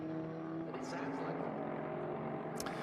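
A vintage race car powered by a Judd 4GV V engine runs steadily at a live racing event, its continuous droning engine tone heard under a commentator's talk.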